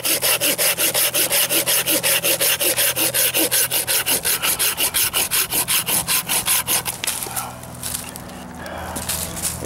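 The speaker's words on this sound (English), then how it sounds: "I'm sawing a branch off like this." A hand saw cuts a branch off a dead pine tree with fast, regular back-and-forth rasping strokes, loud and close, then the strokes stop and brief rustling and handling noise follow.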